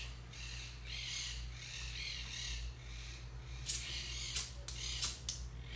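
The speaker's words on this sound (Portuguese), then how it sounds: "Olha, vocês estão ouvindo os passarinhos" Birds call outdoors near an araucaria tree, faint and distant, with scattered chirps and caws over a low steady hum and some light tapping close by.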